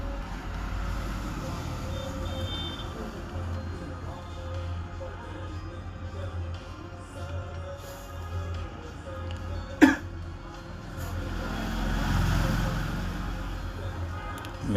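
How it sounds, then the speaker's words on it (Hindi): A man coughs once, a single sharp burst partway through, over steady low traffic rumble from a nearby road. "उसको खांसी बहुत आ रही है"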